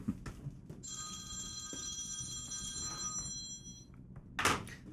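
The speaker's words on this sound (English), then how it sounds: "Let me kill my cell phone here real quick." A cell phone rings indoors with a steady electronic ring tone lasting a few seconds, followed by a thunk as it is silenced.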